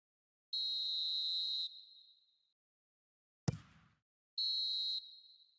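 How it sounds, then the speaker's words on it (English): Referee's half-time whistle in the eFootball PES 2021 football video game: two long shrill blasts separated by a short sharp thud, loud and clear with no commentary over them. "And the half-time whistle goes."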